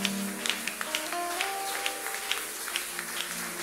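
Church congregation applauding, a faint rhythmic clapping with regular sharp claps about twice a second, with a sustained musical tone in the background.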